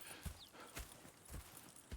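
Horse hooves clip-clop in a steady walking rhythm in the video game Red Dead Redemption 2, several soft hollow knocks, fairly quiet with no talking.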